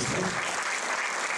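An audience applauds at a theatre show, a brief burst of dense clapping that is strongest at the start and then carries on evenly, with no clear speech over it.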